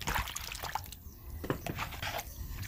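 Water pours and splashes as cabbage is rinsed and moved into fresh water in a home kitchen while beef bone soup is prepared, a steady close trickle with brief sloshing bursts.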